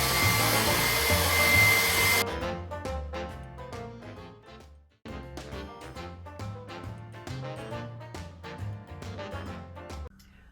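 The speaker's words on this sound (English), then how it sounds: "So now I need to blow off the drywall dust" A blower, loud like a hair dryer, whooshes drywall dust off a textured wall for about two seconds, then cuts off and gives way to other sounds.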